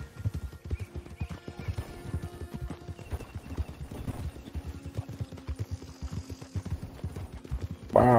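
A horse gallops in Red Dead Redemption 2 Online, its hooves beating a steady, rapid clip-clop rhythm for several seconds at moderate volume, with a faint snort or whinny near the end.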